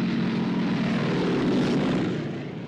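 Propeller warplanes in the war film Patton roar overhead, a loud sustained engine drone that swells and then begins to fade as they pass.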